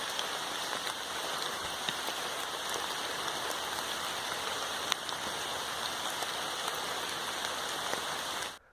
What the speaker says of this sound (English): It was just a constant rain.